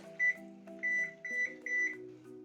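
An oven is being set to preheat to 350 and gives four short, bright electronic beeps in an even rhythm. The beeps are close and clear over a soft, steady tonal background.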